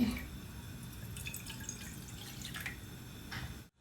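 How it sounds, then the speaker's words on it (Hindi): Water from a glass being added into a pan set on a lit gas stove, heard as a steady close trickle and drip lasting a few seconds before cutting off abruptly, with no talking. "पैन के अंदर लगभग 1 गिलास हम पानी ऐड कर देंगे"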